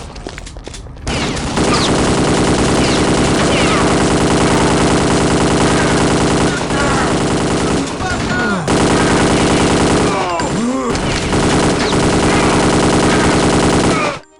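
Dense, continuous automatic gunfire from the video game Kingpin: Life of Crime, a loud, unbroken rattle of rapid shots lasting over ten seconds with brief gaps, sounding close and overwhelming.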